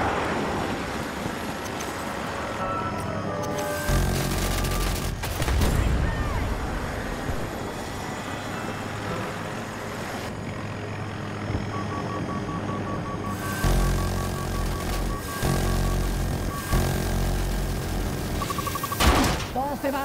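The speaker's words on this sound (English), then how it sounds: "Enemy aircraft there!" Aircraft engines roar through a Battlefield 2042 air-combat match, a steady droning rumble punctuated by clanks and slams, while voices talk over it.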